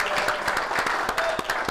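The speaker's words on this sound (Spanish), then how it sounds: "vamos a darle un aplauso a mi compadre Valerio" Brief burst of applause for a compadre's birthday during a live stream, steady clapping filling the short moment with a faint voice underneath.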